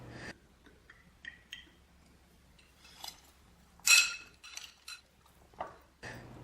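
Tomato halves and onion being tossed with olive oil in a bowl, giving scattered clinks and taps of a utensil against the dish with short wet stirring bursts between quiet gaps.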